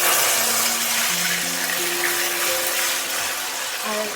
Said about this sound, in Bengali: তেল গরম হয়ে গেছে। এবার এই কচু আস্তে করে আমি দিয়ে দেবো